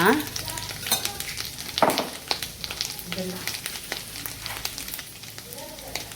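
Grated coconut and turmeric for patrode fry in a pan. A steady sizzle runs throughout, broken by sharp scrapes and clinks of stirring with a spatula.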